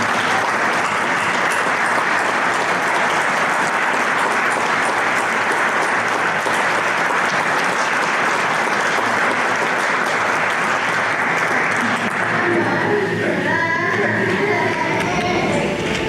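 Loud, sustained applause from an audience at the 2025 Braceby School District Distinguished Alumni Hall of Fame induction ceremony, dense and steady throughout, easing slightly at the end.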